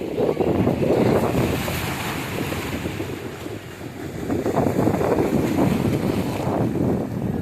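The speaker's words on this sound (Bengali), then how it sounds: "এই দেখো এইদিকে ঢেউটা" Surf rushes and breaks in continuous, washing surges on the beach at Digha, loud and close, with wind buffeting the microphone throughout.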